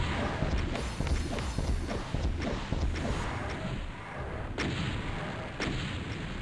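Weapon fire in Doom 2: a steady run of repeated heavy booming shots, fairly close and loud, with a few sharper blasts, and almost no talk over them.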